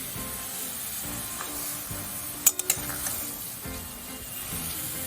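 Ash gourd with green chillies frying on high flame, a steady close sizzle with soft stirring and a couple of sharp metallic clinks against the pan midway.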